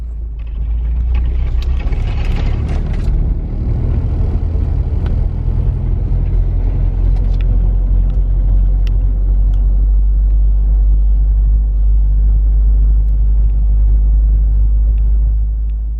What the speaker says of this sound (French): Départ en voiture de la maison.